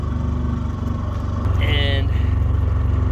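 A Mercury 2.5hp outboard motor runs steadily on a duck boat out on the water, a close, continuous low drone with a brief higher whine partway through.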